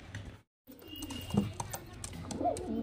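Soft Kalshira highflyer pigeon cooing close by, low and murmuring, with a brief silent gap early and faint background noise throughout.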